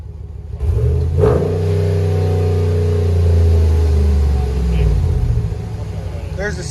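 A 2021 RAM 1500 with a 5.7L HEMI V8, dual exhaust and muffler delete revs up close by into a loud, deep rumbling roar, holds it, then settles back toward idle.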